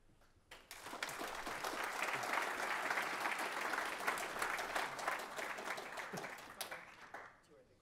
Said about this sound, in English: let's just give one more round of applause to the speaker